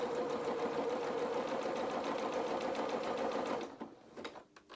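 A sewing machine sews a deep zigzag seam in felt fabric at stitch length 5, giving a steady, rapid mechanical hum with a fast ticking pulse that winds down and stops near the end.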